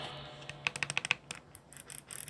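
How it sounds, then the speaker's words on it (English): Keystrokes on a Leobog Hi75 aluminum gasket-mount keyboard fitted with gray wood switches: a short run of crisp, evenly spaced clacks, then a quicker, lighter burst of typing, close and quiet with no voices. "this is a aluminum keyboard with a gasket mount and two Leobog's gray wood switches"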